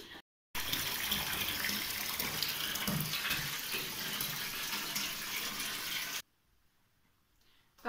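Water runs steadily from a bathroom tap or shower during a night-time bath, a continuous close splashing stream that cuts off abruptly, leaving near silence.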